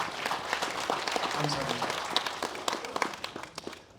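Audience applause welcoming a guest speaker, the president of a women's organizations council, at a memorial ceremony for President Syngman Rhee in a memorial hall. Clapping runs steadily throughout, with someone briefly speaking over it.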